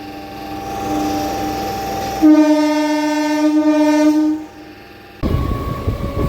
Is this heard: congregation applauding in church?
no